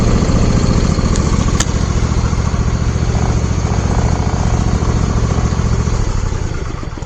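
A Briggs and Stratton V-twin engine idles steadily, a loud, even, continuous rumble with no change in speed, fading slightly at the very end.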